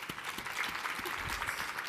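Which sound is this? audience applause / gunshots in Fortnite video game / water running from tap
audience applause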